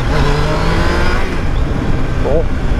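A Triumph Tiger Sport 660 motorcycle engine runs loud and close with a steady, gritty drone and rising revs throughout, while a voice talks over it.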